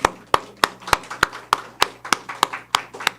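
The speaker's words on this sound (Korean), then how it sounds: "자, 격려의 박수 하겠습니다." Hands in a church congregation clap in a steady, evenly spaced rhythm, about ten sharp claps in three seconds, fairly close and alone.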